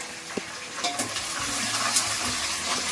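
Green chillies fry in a pan with a steady broadband sizzle, broken by a few soft stirring scrapes and clinks, fairly close and with no talking.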